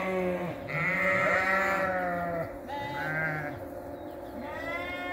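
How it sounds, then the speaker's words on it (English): Several sheep bleat in overlapping, drawn-out calls across a lush spring pasture on a farm, fairly close and loud, with no talking. "the sheep are out there stampeding"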